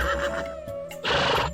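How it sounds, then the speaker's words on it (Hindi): A horse neighs loudly in a long whinny that rises to a strong burst near the end, standing alone with no voices over it. "हिनहिनाया।"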